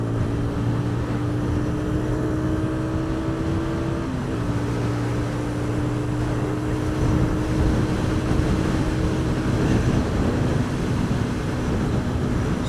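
Keeway RKR 125cc motorcycle cruising at 51 mph in sixth gear around 7,000 RPM, a steady, loud, high-revving engine drone with a faint pitch dip midway and heavy wind rush throughout.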